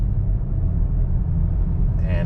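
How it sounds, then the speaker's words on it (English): A BMW X5 M or X6 M engine idles while warming up, a steady low rumble, close and constant, a brief higher sound appearing just at the end. "warming the car up"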